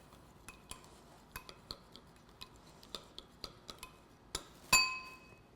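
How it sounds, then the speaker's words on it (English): A spoon stirring food in a bowl, with a quiet series of light clinks and taps against the dish at an irregular pace, then one brighter ringing clink near the end. "We can stir it up."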